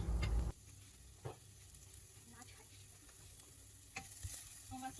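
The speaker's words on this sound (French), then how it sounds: "On va d'abord sauter les gingembre et les ail." Ginger and garlic sauté in hot oil in a pan, a faint low sizzle with a few soft taps of stirring after a brief loud knock at the start.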